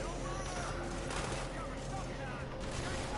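Video game gunfire, a dense continuous rattle of overlapping shots for a few seconds, with voices over the shooting.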